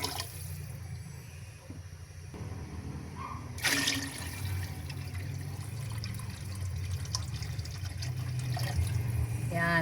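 Water poured into a cooking pot with beef cubes while making lomi, a steady close liquid pouring and splashing that continues for several seconds.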